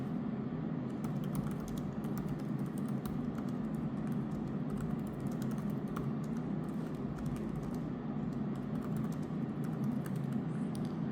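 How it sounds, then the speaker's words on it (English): Typing on a Lenovo Yoga 7 laptop keyboard, a quiet, continuous patter of soft key clicks in an uneven rhythm, heard close and alone over a low steady background hum. "So let me type something for you."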